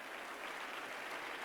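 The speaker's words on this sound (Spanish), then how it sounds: "denle un aplauso fuerte al Señor." A church congregation claps in praise during a sermon, a short, steady burst of dense applause heard faintly and from a distance, with no talking.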